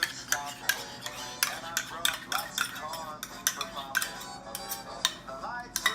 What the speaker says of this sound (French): vous avez juste à prendre une maryse ou une cuillère en bois. Vous mélangez le tout, bien brassé